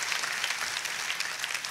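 A church congregation applauds during a worship service, a steady, dense patter of many hands clapping together at a moderate distance, continuous from start to finish with no talk over it.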